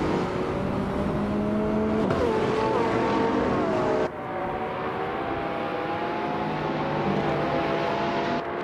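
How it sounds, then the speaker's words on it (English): A 2012 Pagani Huayra and other race cars at Spa in a racing video game, their engines droning loudly and continuously, with pitch shifts as the cars shift gears. "the race kicks off at Spa, and leading the pack is Bot BioArt in a 2012 Pagani Huayra"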